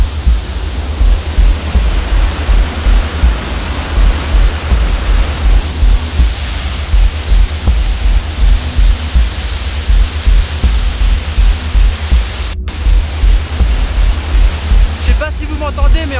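Powerful snowmelt waterfall at the Pas du Roc roars as a loud, constant broadband rush close by, with steady low thumping underneath and a brief break in the sound near the end.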